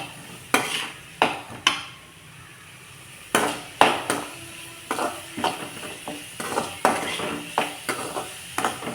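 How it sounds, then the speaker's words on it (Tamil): An egg stir-fry with turmeric and salt being sautéed in a pan: a spatula scrapes and knocks against the metal in irregular strokes over a soft, steady background, with no talking. "இப்போ எல்லாத்தையும் சேர்த்து நம்ம வதக்கலாம் நல்லா"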